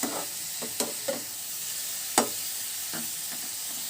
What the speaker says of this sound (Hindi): देखिए हमारी तरकारी भी अच्छे से इसमें फ्राई हो रही